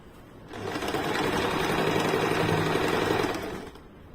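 A sewing machine stitches a lined blouse in a steady, continuous run of close mechanical whirring, starting abruptly and ending after about three seconds, with no talk over it.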